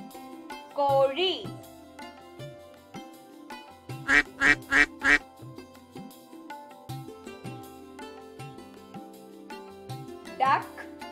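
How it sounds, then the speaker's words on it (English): A duck quacks several times, a quick run of four quacks in the middle and single calls at start and end, over soft background music. "Duck, Tarava."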